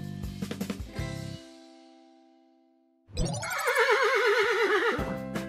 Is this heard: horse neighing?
yes